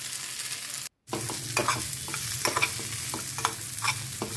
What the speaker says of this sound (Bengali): এবারে চানাগুলো ভাজবো।